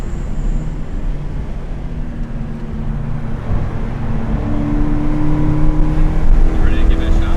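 Subaru BRZ track car, a salvage build, accelerating hard at full throttle on a circuit, engine note rising steadily and growing louder over several seconds, with talk heard over the engine drone.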